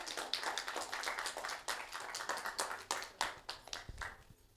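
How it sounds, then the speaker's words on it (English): An audience at a youth wellbeing event gives a round of applause, a dense patter of many hands clapping at moderate distance and fairly faint, tapering off near the end. "Round of applause for Kent Police."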